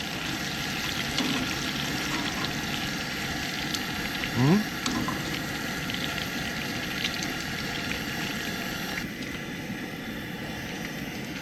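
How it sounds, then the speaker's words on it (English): Continuous sizzling and gentle bubbling of bacon in an old Griswold cast iron skillet on an old Coleman camping stove, a close, even crackle with a brief clink partway through. "Just sizzling and bubbling."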